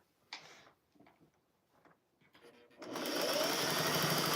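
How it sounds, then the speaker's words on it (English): A sewing machine stitches a flannel rag quilt, starting after a few soft handling taps and then running as a steady, close, continuous whir to the end. "And then we're going to sew that."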